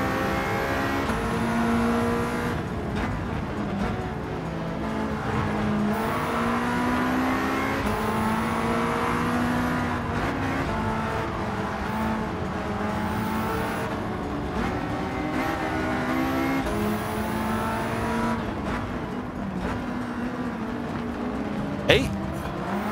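A Mitsubishi Lancer Evo 9 racing in Gran Turismo 7, its engine droning and rising and falling through gear changes over a long stretch, with someone talking over it throughout.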